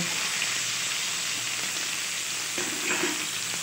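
Bele fish, cleaned and coated with salt and turmeric, frying in a pan of oil: a steady, close sizzle and crackle holds throughout with no voices.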